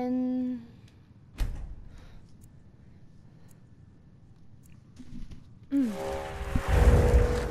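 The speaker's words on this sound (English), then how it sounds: "I take it that's the sound of the spell wearing off." A magical spell wears off in The Elder Scrolls V: Skyrim with a brief tonal chime, a sharp hit, and then a swelling shimmering burst of sound near the end.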